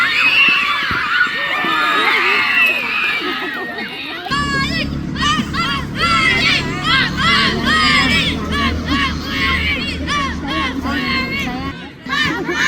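Schoolchildren cheering excitedly at a school futsal match, a loud crowd of young voices shouting and screaming together, with overlapping yells sustained and close throughout.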